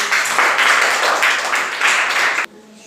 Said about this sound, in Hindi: सही है, ताली बजा दीजिए इनके लिए